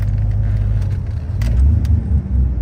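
A GM LS V8 (4.8, 5.3 or 6.0) idles steadily with the AC on, a smooth low engine rumble with no surging, loud and close, with faint jingling on top.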